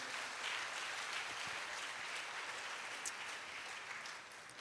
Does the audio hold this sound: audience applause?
yes